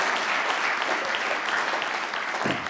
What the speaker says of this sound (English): That usually gets an applause.